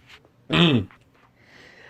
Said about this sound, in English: I needed a cough for so long.